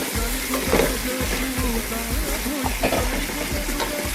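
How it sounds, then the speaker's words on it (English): Short rib stew stirred in a pot, with a steady close sizzle and bubbling under repeated soft scraping strokes of the spoon, no voices. "we're gonna stir it every few minutes"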